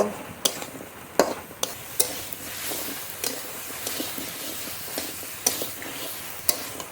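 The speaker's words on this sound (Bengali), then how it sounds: "সিদ্ধ করে রাখা কাঁঠালের রাখি আলু দিয়ে দেবো এবার একটু নেড়ে নেব" Boiled jackfruit seeds fry with spices in a pan, a soft continuous sizzle punctuated by irregular clacks and scrapes of a spoon stirring them, close and fairly quiet.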